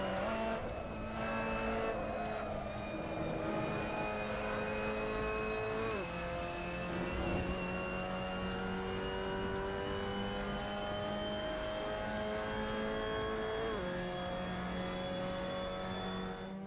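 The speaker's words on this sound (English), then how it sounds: "So that was a lap around Autopolis with the Mazda MX-5 Cup" Mazda MX-5 Cup race car lapping the Autopolis circuit in a racing video game, its engine droning steadily at high revs with clear gear-change dips around six and fourteen seconds, plus brief tyre squeal, loud and continuous with no talking.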